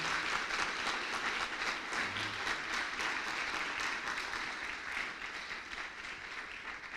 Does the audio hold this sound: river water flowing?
no